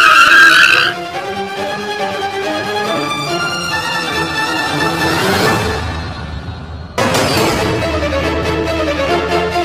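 A car tears away with squealing tyres and a roaring engine, a loud continuous rush that swells, breaks off briefly and surges again, used as a horror story sound effect with no voices.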